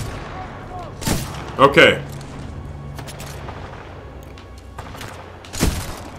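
Titanfall 2 gunfire: a few sharp bursts, one near the start, a tight cluster of shots, and another late burst, with speech around them and low rumbling game ambience between.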